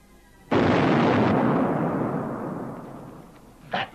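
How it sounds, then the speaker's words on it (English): A hand grenade explodes in a film scene: one sudden, loud, close blast that rolls into a long rumbling decay, with a brief faint sound right at the end. "That, mate, was a ruddy hand grenade."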